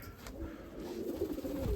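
A pigeon coos softly in a backyard aviary, low rounded calls repeating under steady background noise.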